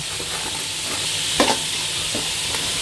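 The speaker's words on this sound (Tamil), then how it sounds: "போட்டு எல்லாத்தையும் ஒன்றா வதக்கி விடுவோம்" Onions and crushed garlic sauté in a pan for mutton curry, with a steady close sizzle and a few brief scraping stirs partway through, no voices.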